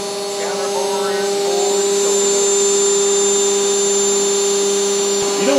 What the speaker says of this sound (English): So you're drilling out the small mounting holes now